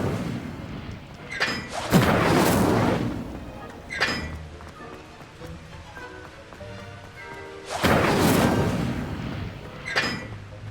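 Incendio fire spell cast in Hogwarts Legacy, a couple of loud whooshing, booming fire bursts with roaring tails, separated by quieter sharp cracks, fairly close.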